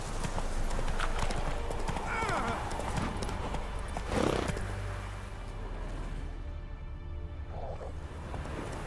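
In The Witcher 3, the horse Roach trots with rapid, regular hoof clip-clops, and a whinny is heard midway. A voice talks over it, and the sound eases toward the end.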